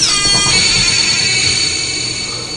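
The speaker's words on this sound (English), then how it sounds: "If you listen to a computer tape, you'll hear something like this." Shrill, steady high-pitched electronic tones with a harsh, buzzing texture, continuous and fairly loud: Commodore 64 computer data played back from cassette tape.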